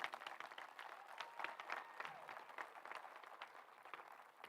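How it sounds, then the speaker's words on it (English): Graduation audience applause for school staff, a soft, distant wash of many hands clapping steadily throughout the short stretch. "Big round of applause for our staff members."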